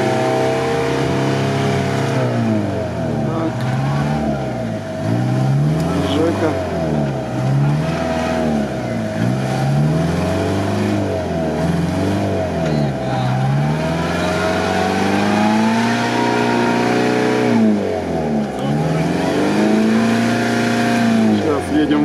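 Off-road vehicle on big wheels driving through rough terrain, its engine revving up and down in repeated surges, loud and close, with people talking over the motor throughout.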